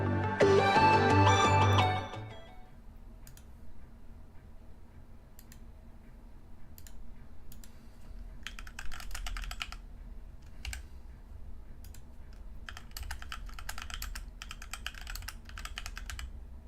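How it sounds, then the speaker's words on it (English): Computer keyboard keys clacking in scattered short bursts of typing, fairly quiet and close, after a louder opening sound fades; no talking. "I need to mute so you guys don't hear the clacking."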